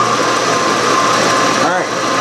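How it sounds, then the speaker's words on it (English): Milling machine drilling a pilot hole in a steam engine cylinder, a loud steady high-pitched motor whine with a brief wavering dip near the end, with people talking over it. "We're getting ready to drill a pilot hole."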